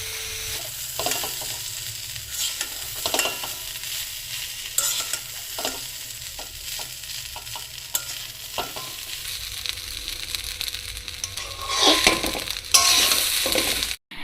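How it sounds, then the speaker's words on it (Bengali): Flattened rice (chira) is stirred into potatoes in a pan over a low gas flame, with a steady run of scraping, stirring strokes and a soft sizzle close by and no voices. "চিড়েগুলো একে একে আলুর মধ্যে দিয়ে নেড়ে ছেড়ে ভালোভাবে মিশিয়ে নিব"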